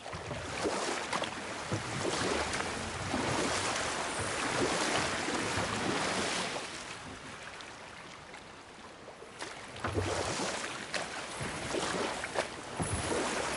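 A huge waterfall in God of War roars as a steady broad rush of falling water, fairly soft and constant, swelling and easing slightly over time.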